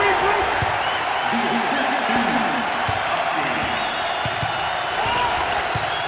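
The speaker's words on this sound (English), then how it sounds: "Look at the student section, Dick, cheering on their classmates, their peers." In NCAA March Madness 08, a college basketball student section cheers without letup, a broad roar of crowd noise running the whole time beneath steady commentary.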